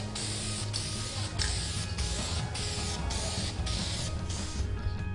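An aerosol can sprays the second coat of base colour in a steady, loud, close hiss that runs almost unbroken, with only slight dips in level between passes.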